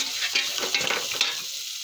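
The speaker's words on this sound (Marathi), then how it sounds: "थोडा जिरा पण घातला. हळद घालू, हलकी फ्राय झाली पाहिजे, जास्त नाही." Cumin seeds and turmeric fry lightly with onion in a pan, a bright continuous sizzle with quick scraping stir strokes, close and fairly loud, no voices.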